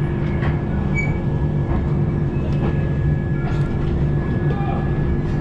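Inside the Agartala Tejas Rajdhani express just after departure, a constant loud rumble of the running train fills the coach, with rhythmic wheel clatter and faint squeals on top and a low voice speaking beneath.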